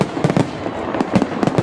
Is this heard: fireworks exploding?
yes